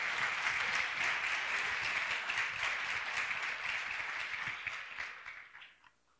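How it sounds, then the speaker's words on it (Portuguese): Members of a church congregation applaud in a sustained, even round of clapping that holds steady before tapering off and fading out over the final second or so. "Pode aplaudir"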